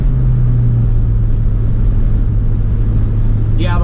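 An LS-swapped Chevrolet C10 pickup cruises at high speed on the interstate, its engine and road noise forming a loud, steady low drone inside the cab for the whole stretch.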